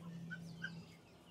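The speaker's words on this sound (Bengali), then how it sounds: "মুরগি, সিল্কি মুরগি, তারপর ব্রাহ্মা মুরগি, আর এর পাশে ফ্রিজিয়ান মুরগি।" Chickens in a family park enclosure, including Silkie, Brahma and Frizzle breeds, give a couple of faint, short clucks over a low steady hum, heard from a short distance.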